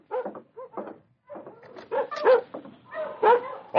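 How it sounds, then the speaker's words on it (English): Several dogs bark and whimper outside in short irregular bursts, some yips sharper and nearer, with brief quiet gaps between, in a snowy Yukon wilderness setting. "Dogs outside are stirring."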